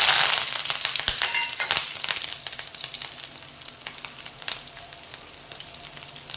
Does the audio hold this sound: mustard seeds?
yes